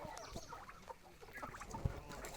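Roosters offered for sale in the Drohobych district, mixed dark, lighter and naked-neck birds, cluck and call in a yard alongside other fowl, with scattered short bird sounds and one sharp close thump.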